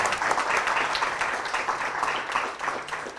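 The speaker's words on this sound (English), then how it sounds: "let's give him one more round of applause" An audience applauds, a dense, even patter of many hands clapping together for a few seconds.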